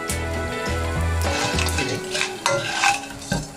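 Flaxseed for alsi pinni is roasted dry in a pan, with repeated scraping stirs and light metallic clinks of a spatula over a soft background hum, close and fairly loud.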